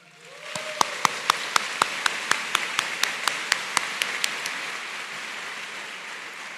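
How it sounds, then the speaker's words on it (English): Audience applause at the NC State MAE graduation ceremony in 2024: a steady wash of clapping swells after a half-second, with a run of sharp, evenly spaced claps standing out close by before the crowd settles into continuous applause. "Please give them a round of applause."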